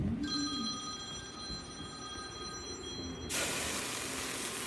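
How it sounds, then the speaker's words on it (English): A phone rings with a steady electronic trill for about three seconds in a kitchen during a cooking session, then cuts off, leaving a louder hiss like steam from a stainless steel pot on a burner. "Your camera's ringing."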